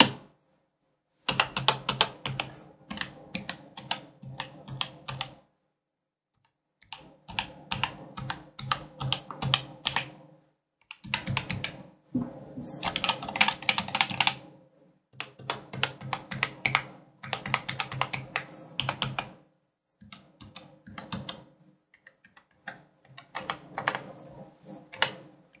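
Everest Rampage KB-R88 mechanical keyboard being typed on: rapid, crisp key clacks come in dense bursts separated by short silent pauses, close and fairly loud, with no talking.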